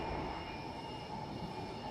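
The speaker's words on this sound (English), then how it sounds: "we have some freight passing platform number 2" A freight train with locomotives passes a station platform at Cowan, giving a steady, loud rolling rumble of rail wagons close by.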